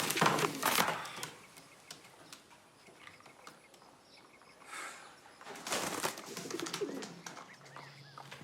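Carrier pigeons coo in soft, throaty bursts close by, with a brief flutter of wings and quieter gaps between the calls.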